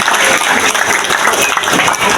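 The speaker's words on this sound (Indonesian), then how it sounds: "Tepuk tangan untuk beliau." A crowd at a regional election campaign rally in Bali claps steadily and densely, loud and close, a continuous wash of applause for the full duration.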